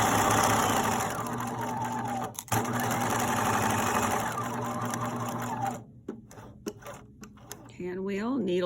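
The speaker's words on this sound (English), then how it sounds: "now I just turned and continue sewing" A sewing machine runs steadily stitching a popcorn bag, a loud continuous rapid mechanical whir that stops briefly, resumes, then breaks into short bursts and pauses near the end; a voice talks faintly.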